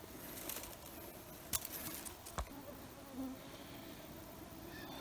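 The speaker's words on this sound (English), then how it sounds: "So I'm in the middle of a dense forest. A lot of mosquitoes, but it's okay." Mosquitoes and other insects buzz in a dense forest, a faint, thin whine running throughout, broken by a few brief rustles and snaps nearby.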